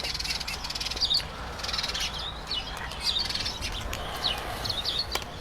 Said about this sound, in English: So we have another Sedge Warbler.